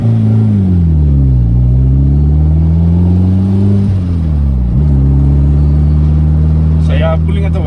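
A Honda B18C turbo car pulls away in first gear, its loud engine climbing in pitch, dropping briefly at a shift, then climbing again in a steady close-up drone; a faint voice briefly appears near the end.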